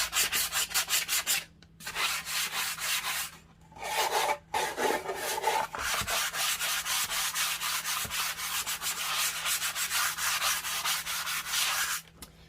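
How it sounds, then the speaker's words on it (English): A sanding block rubs steadily over wood in quick, even back-and-forth strokes, close and fairly soft, with a few brief pauses. "I'm just letting the sanding block just glide."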